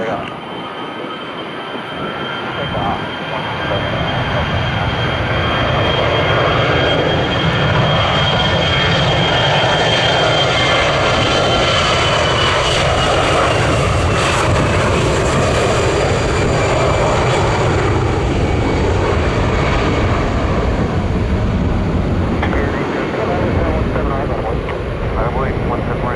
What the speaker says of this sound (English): runway 17 right, clear for takeoff